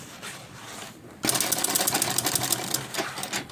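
A sewing machine stitches a triangle-shaped fabric bag, a quiet pause giving way to a close, rapid mechanical clatter of the needle for the remaining seconds.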